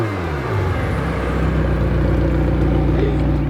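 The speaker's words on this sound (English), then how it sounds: "Love the sound of these McLarens." A McLaren press car's engine revs up from a low idle into a loud, rising roar, then holds a steady, throaty drone close by with no talk over it.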